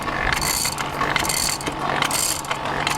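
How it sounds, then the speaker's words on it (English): Hand-pumped antique forge blower driven by a handle moved up and down, a continuous close mechanical clatter of gears and ratcheting with steady rushing air, with no talking. "As I pump the handle up and down, it turns this blower, and that's what's forcing the air"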